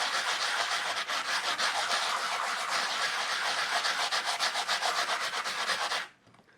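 Coarse 80-grit sandpaper rubs back and forth on a hardened casting-powder air freshener, a steady rapid scratchy rasp up close that runs continuously for about six seconds, then stops abruptly.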